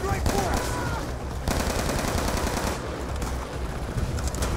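Rapid automatic TAR-21 rifle fire in the video game Black Ops 2 runs in loud, dense bursts that are nearly continuous, with only brief gaps between them.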